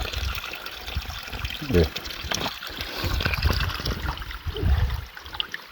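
Clear, chilled creek water flowing in Narrows Creek, Fiordland, a steady close trickle and babble running throughout, with someone speaking briefly over it.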